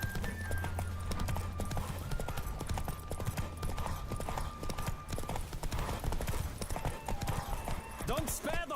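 Rapid rhythmic hoofbeats of a horse galloping in The Witcher 3, steady and close throughout, with music and a brief vocal sound near the end.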